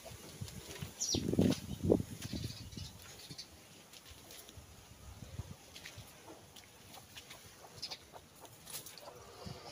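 Chickens cluck and squawk outdoors, loudest in a burst early on, with scattered bird calls and rustling throughout.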